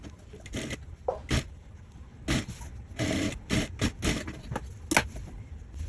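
A sewing machine stitches a bias strip onto a garment neckline in short, separate bursts of rapid mechanical whirring and clatter, close up, with pauses between runs.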